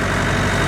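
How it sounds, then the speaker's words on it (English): Perkins diesel engine on a hay tractor idling steadily in a continuous low, even rumble, close and loud, with no voices. "I can hear the purr of the Perkins engine"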